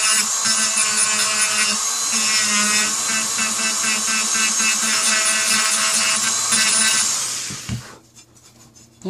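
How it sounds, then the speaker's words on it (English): Continuous loud rasping of power sanding on parts for an HK G3-style Tippmann A5 paintball gun build, steady for about eight seconds before cutting off into quieter handling. "Alright, get those sanded down."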